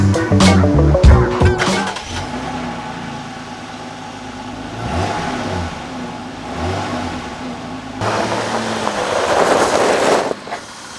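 Jeep engine running after its exhaust was repaired: a moderate, fairly subdued motor hum that idles and revs up a few times, with a louder tonal burst at the start.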